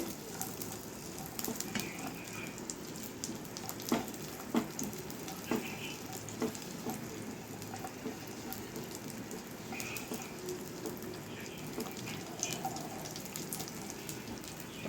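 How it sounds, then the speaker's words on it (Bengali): Raisins frying in a pan alongside cashews for a carrot and sago payesh, a steady soft sizzle with occasional light clicks and scrapes throughout. "আর দিয়ে দিব কিশমিশ একটু ভেজে নিতে হবে"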